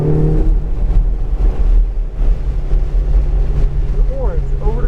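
Race car on a track accelerating under power, a loud, steady engine roar with wind buffeting the microphone and a brief shift-like dip, while a voice talks over it.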